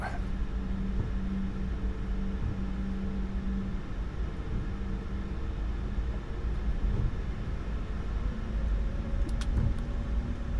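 Airliner jet engines spool up to 40% thrust in Microsoft Flight Simulator 2024, a steady broadband roar and hum that stays even throughout, with a faint tonal whine underneath.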